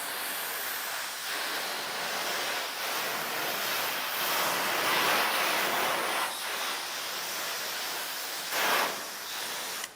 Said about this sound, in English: We'll rinse it off. We'll wash the surface,